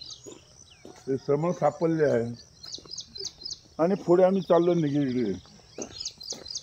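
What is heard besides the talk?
birds chirping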